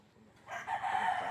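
Pure Cardinal Kelso gamefowl rooster crows once, a drawn-out nasal call rising out of a quiet start, moderately distant and fairly faint.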